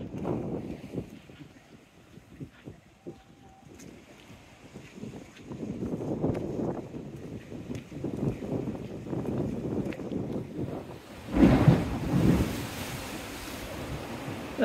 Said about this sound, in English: There we are, one splash.